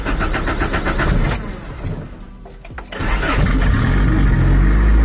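A car engine, reportedly sounding like a Honda, cranks and catches, then revs hard and loud close by, settling into a steady roar after a brief dip; no talking.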